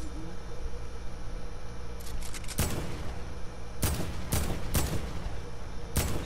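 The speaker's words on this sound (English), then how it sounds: "Shots are going through it once again." Gunfire in a video game, several sharp shot bursts cracking out in quick clusters over steady game background noise, with players chatting now and then in between.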